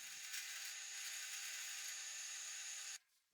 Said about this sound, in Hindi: लकड़ी की साइड में ड्रिल से सुराख किया।